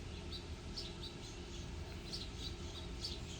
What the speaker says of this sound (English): There's a hummingbird over here. Can you hear it?